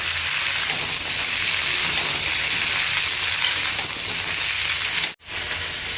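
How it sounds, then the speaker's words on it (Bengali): Cauliflower florets fry lightly in hot oil in a pan, a steady, fairly loud sizzle that holds evenly and cuts off abruptly for a moment near the end. "ফুলকপিটা মা এবার হালকা হালকা করে ভেজে নেবে"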